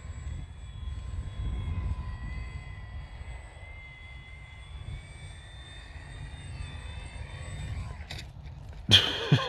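A radio-controlled Su-26 model aircraft drones steadily through the air with a faint, even engine whine, some distance off, ending in a few brief clattering knocks up close.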